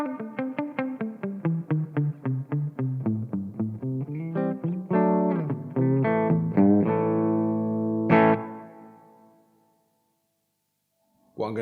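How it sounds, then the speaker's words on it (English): A guitar played through a Marshall MG50 amplifier with its studio reverb set high: quick repeated picked notes, then sustained ringing chords, and a final strum whose reverb tail fades smoothly into near silence. "So first up, you've got a studio reverb."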